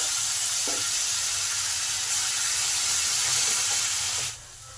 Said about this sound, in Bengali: ধনে গুঁড়ো হলুদ গুঁড়ো জিরে গুঁড়ো আর লঙ্কা গুঁড়ো মশলাটাকে ভালো করে কষার জন্য সামান্য পরিমাণ জল দিলাম